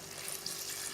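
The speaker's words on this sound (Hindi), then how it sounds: "अब हम यहाँ पे इसमें पानी ऐड कर देंगे।" Water pours steadily into a pot of masala-fried mutton for nihari, a brief continuous splashing rush at moderate level with no talking.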